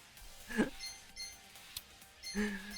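A Windows notification chime sounds twice over quiet game audio, a short bright bell tone near the start and another near the end, with a faint click between them.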